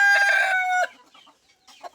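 Domestic chickens at their drinking-water spot at home give a loud, ringing, drawn-out call for almost a second, followed by softer scattered clucks and faint rustling.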